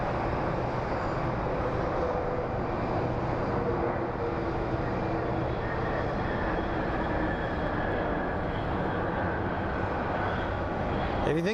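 Boeing 767 airliner at Phoenix Sky Harbor airport, a steady, moderate engine drone that carries on for about eleven seconds and ends in a brief sharp noise.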